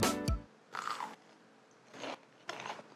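Three crisp bites into a pan-fried tofu nugget, each a short, close crunch spaced about a second apart, heard alone after a brief knock at the start.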